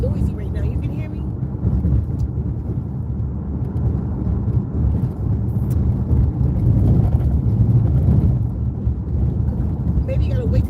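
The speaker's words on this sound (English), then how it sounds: "Because the car is pretty noisy. Like the road seems, the road is extremely noisy right now." Low, continuous road rumble inside a moving car, a steady broadband roar that holds at a fairly even level throughout with no clear breaks.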